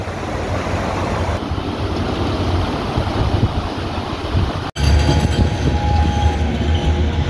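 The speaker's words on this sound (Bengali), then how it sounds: "এই যে দাঁড়িয়ে রয়েছে একটা ট্রাম, একটা নয় দুটো পরপর" A tram rolls past close by on its rails with a loud, steady rumble and wheel screeches, then a high metallic squeal near the end.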